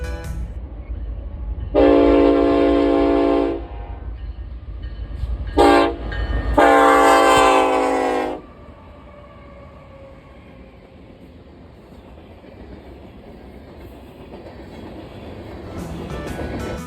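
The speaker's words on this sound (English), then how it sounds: "a Union Pacific manifest rolled through heading eastward" An eastbound Union Pacific manifest freight train led by an SD70AH locomotive sounds its horn in the Mojave Desert, giving three loud blasts close by, the third the longest, before a low rolling rumble continues as it passes.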